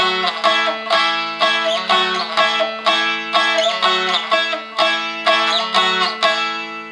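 First four bars of a 12-bar blues strummed on an Ashbury Dulci-Stick strumstick tuned DAD, with even rhythmic strums and ringing drone strings, close and clear, with no voices.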